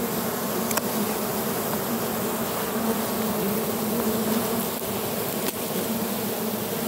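A swarm of European honey bees packed into a hollow log gives off a steady, dense buzzing hum, close and continuous throughout with no talking.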